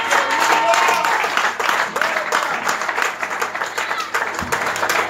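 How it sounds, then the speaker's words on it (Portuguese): A church congregation claps and applauds, a dense continuous patter of hands with voices calling out over it throughout. "Bate palmas para Deus"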